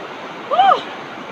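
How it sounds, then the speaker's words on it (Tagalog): Floodwater rushes across a farm field in a steady broad roar, with a brief louder swell in the middle and no clear speech over it. "Grabe ang baha oh."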